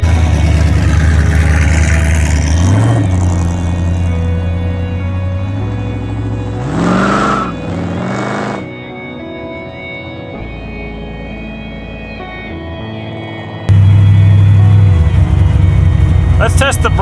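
An old truck that has not been on the road for 30 years drives down a road at night, its mid-pitched engine rumbling and revving, easing off midway before surging loud again near the end.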